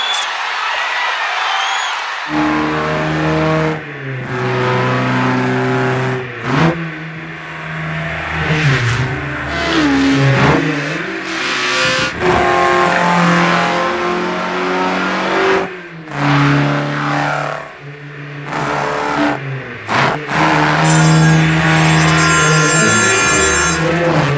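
Animated Grand Prix race cars speed past, their engines whining and revving in rising and falling pitches over a crowd, with a Danish announcer commentating throughout.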